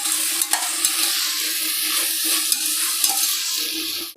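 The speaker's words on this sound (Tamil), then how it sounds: "இப்போ தக்காளி, வெங்காயம் எல்லாம் நல்லா சேர்ந்து வதங்கி வரட்டும்." Tomatoes and onions sauté together in a pan for a spicy mutton gravy, a loud, steady sizzle with bright frying crackle and a few sharp stirring clicks throughout.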